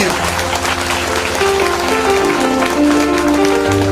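A church congregation claps loudly and steadily during a Hindi-language worship service, a continuous dense patter layered over music throughout.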